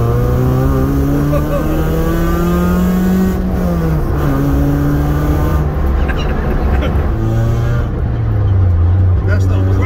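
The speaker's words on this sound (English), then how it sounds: "That's the crackle from the exhaust there." A road-legal Ford Fiesta track car heard from inside the cabin: a loud, continuous engine drone that rises and falls through the gears, with brief exhaust pops and crackles between shifts.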